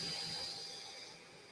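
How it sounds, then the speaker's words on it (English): Cooling fan on a FOKOOS Odin-5 F3 foldable 3D printer blows a steady, faint airy hiss with no break, heard close up, while other printers run in the room. "We can hear the fan."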